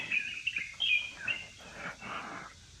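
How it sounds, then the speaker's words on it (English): Birds chirp and tweet in a Chinese garden among rocks, trees and stone walls, with short bright calls repeating irregularly at moderate distance over a quiet background. No cicada drone stands out. "I don't want to disturb the sound of the cicadas and the birds."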